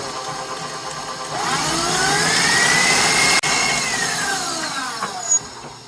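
An electric mixer runs at full speed on Sicilian savoiardi cookie batter, its steady motor whine rising in pitch after about a second and holding loud and close, with a small click near the end.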